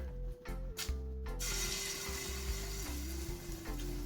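Saltfish (codfish) fritter batter sizzles in hot oil, a steady close hiss that swells after a soft splash as more batter goes in, with a low hum beneath and no talking.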